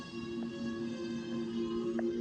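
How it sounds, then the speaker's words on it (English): Sustained synthesized horn-like tones hold steady chords with a faint bright accent near the end, moderately loud and without speech. "You get a bunch of like horns and shit that sound like this."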